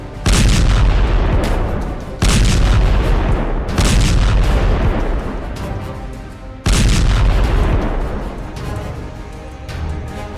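Heavy explosions from Russian drone and missile strikes in the war on Ukraine, three or four loud close booms a few seconds apart, each leaving a rumbling, crackling tail.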